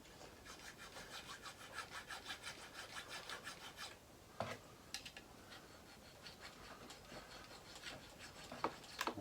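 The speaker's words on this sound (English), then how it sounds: "We'll just see if we can sand her down a little more." A cigar box guitar is sanded by hand, steady rhythmic rasping strokes close up for several seconds, then a few scattered scrapes and taps after a pause.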